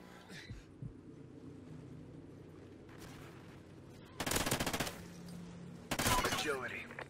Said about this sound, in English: I'm just gonna start hip firing.